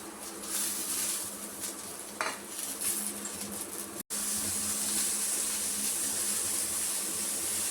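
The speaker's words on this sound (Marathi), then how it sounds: "कांदा आणि टोमॅटो भाजून घेऊ" Onion and tomato roasting in a pan, a steady low hiss of cooking with a spoon scraping and clinking against the metal, one brief cut partway through, no voices.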